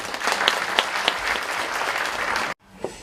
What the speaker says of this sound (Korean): 이재정 교육감께 큰 박수로 모시겠습니다.